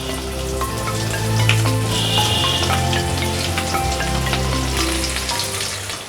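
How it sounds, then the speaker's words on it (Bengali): Boal fish (Wallago attu) fries in hot mustard oil in an iron wok, a loud, continuous crackling sizzle with scattered pops and spatters and no voices. "মাছগুলো হালকা করে ভেজে নেব।"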